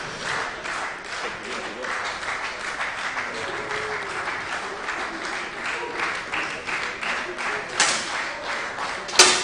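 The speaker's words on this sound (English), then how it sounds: "just trying to get the crowd, I think, clapping along" Spectators at a para shooting world championship, men's 10m air rifle standing SH1 final, clap along in a steady, fast rhythm, sustained and moderately loud with a few sharper knocks near the end.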